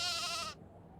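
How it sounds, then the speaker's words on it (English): A single sheep bleat in the video game Nancy Drew: The Haunting of Castle Malloy, a short, loud, wavering cry that cuts off abruptly into quiet, with no talk. "Wait, I heard sheep."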